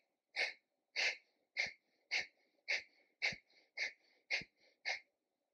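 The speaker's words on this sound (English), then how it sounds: "I was releasing air in short spurts out through my nose" Nine short, sharp bursts of air are pushed out through the nose at an even, roughly half-second rhythm during a yoga breathing exercise. Each puff is close and distinct, with quiet pauses between them.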